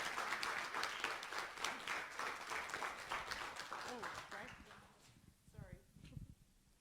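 An audience applauds speakers being welcomed at a self-compassion talk, a steady, dense wash of clapping that fades out over several seconds before a few scattered sounds and brief speech near the end.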